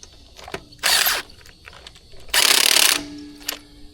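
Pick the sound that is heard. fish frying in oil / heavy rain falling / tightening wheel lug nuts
tightening wheel lug nuts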